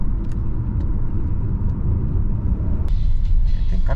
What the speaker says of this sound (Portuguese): Tem caminhão parando aí, ó.